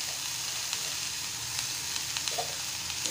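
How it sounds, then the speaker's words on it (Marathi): Taakla greens and grated fresh coconut stir-frying in a pan, a soft continuous sizzle with a few light stirring taps, fairly quiet and without talk. "एकदा असंच परतून घेऊया"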